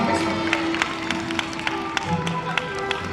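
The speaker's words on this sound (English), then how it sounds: "Give a round of applause." A street crowd near the Brooklyn Bridge in New York City gives a street performer a round of applause: scattered, sharp claps ring out over a steady wash of outdoor crowd noise.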